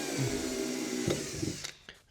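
A power drill bores a small pilot hole, a whining motor tone running steadily for about a second and a half before spinning down, followed by a couple of sharp clicks as it stops.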